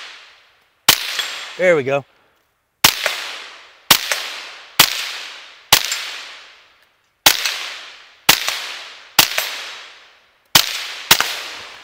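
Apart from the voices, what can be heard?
Ruger LC Carbine 5.7x28 gunshots at steel plate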